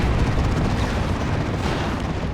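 Rocket-run explosions in Warhammer 40k: Dawn of War 2 merge into a loud, dense, continuous rumble of blasts with no clear gaps, with a slight surge near the end.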